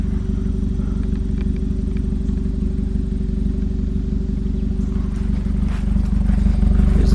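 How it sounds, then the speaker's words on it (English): Custom exhaust with blue tip on a 2019 Acura ILX A-Spec idling loudly up close, a deep steady rumble with a slight rise toward the end. "Here's the custom exhaust, blue tip. Sounds pretty mean."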